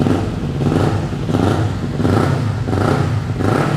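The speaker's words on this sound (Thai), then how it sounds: "ขึ้นเร็วลงเร็ว รอบเครื่องยนต์นิ่งนะครับอัตราเร่งดี" A 2019 Kawasaki Ninja 400 motorcycle engine revs repeatedly, surging up and dropping back in quick pulses over a steady rumbling idle, loud and close.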